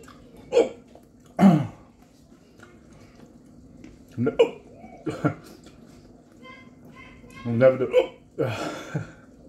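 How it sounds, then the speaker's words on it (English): Repeated hiccups during an eating challenge, several short sharp gulping bursts spaced unevenly a few seconds apart, close and fairly loud in a quiet room. "Love a good hiccup."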